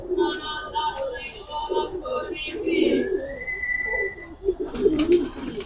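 Giribaz pigeons coo in low, rolling calls close by, mixed with chirpy bird sounds and some talking in the background.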